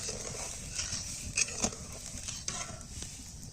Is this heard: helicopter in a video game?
no